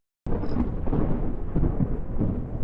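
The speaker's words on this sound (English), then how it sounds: "the thunder's a little loud" Thunder in the Minecraft video game, a loud sustained rumble that starts abruptly and rolls on steadily throughout with no talk over it.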